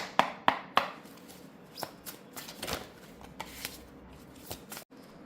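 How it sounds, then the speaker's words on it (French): Tarot cards shuffled by hand, a few sharp riffling snaps at the start followed by softer, scattered card slaps and flicks, close and fairly quiet with no voice. "je vais vous tirer les deux petites cartes conseils"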